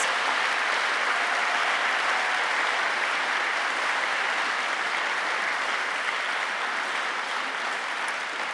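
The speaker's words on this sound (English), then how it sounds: "could we give Mr. Comer, Addie Mel, Tris Carroll one more round of applause?" Sustained, even applause from a commencement audience at a Christian high school graduation, a dense wash of many hands clapping steadily at a fairly distant, moderate level for over eight seconds.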